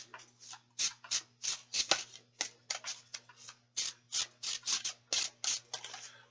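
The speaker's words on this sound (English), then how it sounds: "All the decks are pre-shuffled, but I'll shuffle them again." A deck of tarot cards is shuffled by hand, giving repeated crisp riffling and slapping bursts in an irregular rhythm, close and clear over a steady low electrical hum.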